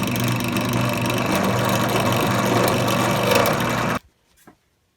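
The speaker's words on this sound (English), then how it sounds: "Now I'm just gonna use this grinding bit just to widen it up just a little more in there" A grinding bit widens a tapped hole in a pool ball for a shifter knob, giving a steady, loud, buzzing whine for about four seconds before cutting off abruptly, followed by a brief faint rattle.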